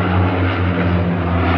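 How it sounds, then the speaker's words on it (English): Firefighting propeller planes pass overhead, a loud, steady engine drone with a deep low hum that holds evenly through the whole stretch, no voices over it. "here we've got the planes for the fire coming by."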